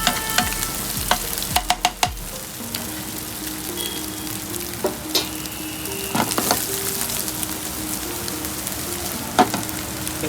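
Bhaji sizzles in hot oil, a soft, steady crackle with several sharp clinks of a utensil against the pan at the start and a few more scattered later, without talk.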